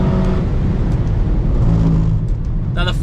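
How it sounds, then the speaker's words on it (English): Deep, steady V8 roar from an Aston Martin Valkyrie AMR Pro sports car under load, loud and close with a constant low rumble and a brief higher whine near the end. "Sounds angry V8."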